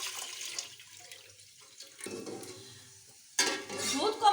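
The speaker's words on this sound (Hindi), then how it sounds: "अब मैं इसमें 1 लीटर दूध शामिल कर लूंगी" One litre of milk being poured into a pot on a lit stove for fruit custard, a soft liquid splashing and gurgling that swells louder near the end, close and without talking.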